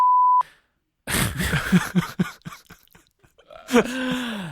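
A single short, loud censor beep tone opens, followed after a pause by people talking and laughing nearby.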